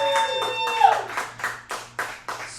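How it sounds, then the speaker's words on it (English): A game show audience claps for the winner: a few sharp, separated claps sound over a bright musical sting, growing more spaced and distinct toward the end. "How about a round of applause?"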